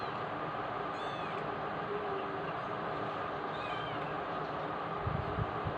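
A cat meows twice in short, rising calls, fairly faint and somewhat distant, heard over a steady background hiss with a brief low thump near the end.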